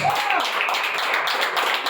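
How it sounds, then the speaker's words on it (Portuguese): Church congregation applauding the name of the Lord during a service, steady dense clapping throughout with voices mixed in. "aplauda o nome do Senhor"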